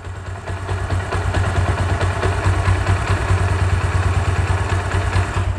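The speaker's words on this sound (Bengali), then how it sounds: "এখন ইঞ্জিনের সাউন্ড শুনুন।" A Bajaj Discover 135 motorcycle engine after a full service and repair, idling steadily up close with a low, even thrum and light mechanical clatter, moderately loud and with no voices.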